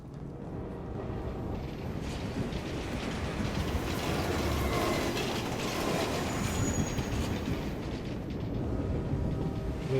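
A Paris metro train rumbles past in Assassin's Creed Unity, set in revolutionary-era Paris: a loud, continuous rolling clatter with wheel squeal that swells toward the middle and stays heavy to the end.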